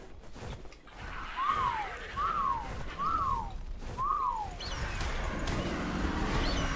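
Whistle command in the video game ARK sounds as four short, clear descending whistles at an even pace over noisy game background.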